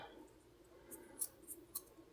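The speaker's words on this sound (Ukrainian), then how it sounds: "ми його зараз ось так ножицями гарно зріжемо" Small scissors trim a thread bump on a cross-stitch micro-embroidery pendant, giving three faint, quick snips close by over a low background hiss.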